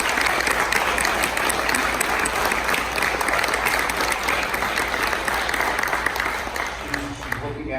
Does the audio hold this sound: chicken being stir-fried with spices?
no